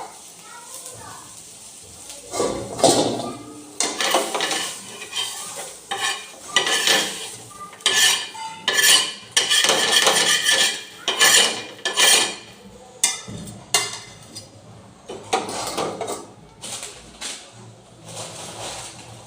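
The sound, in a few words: stirring fennel seeds roasting in pan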